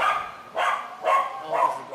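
A dog barks three times in a steady rhythm at a kennel club dog show, each bark sharp and fairly close, with quiet gaps between them.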